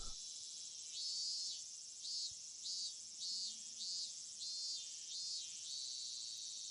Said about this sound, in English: This is like the stock cicada fucking sound effect